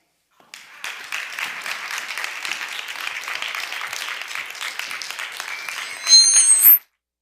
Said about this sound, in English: Let us do another round of applause.